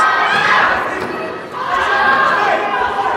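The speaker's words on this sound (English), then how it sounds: "The crowd is going wild. The crowd is going really wild." A crowd roars and cheers at a youth karate finals competition in Windhoek, loud and continuous with a brief dip midway, thick with overlapping shouts and chatter.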